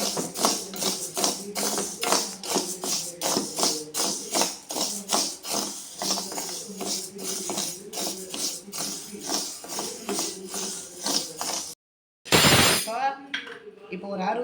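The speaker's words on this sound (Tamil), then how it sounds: "இப்போ நம்ம பச்சை பயிரை கொட்டிக்கலாம்." Green gram (mung beans) roasts in a hot kadai, with a rhythmic series of close scraping clinks as the beans are stirred, then a brief gap and a loud rushing burst near the end.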